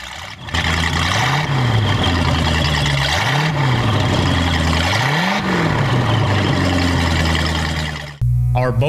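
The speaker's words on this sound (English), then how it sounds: "Let's give this Mercruiser a few revs." A 454 Mercruiser marine engine running loud and close, its steady roar swelling into three rising revs before settling back, then cutting off abruptly near the end.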